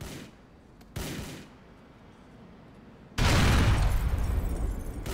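Grand Theft Auto 4 video game combat: a short sharp blast, then a louder sustained explosive roar with gunfire, loud and close, with no talking.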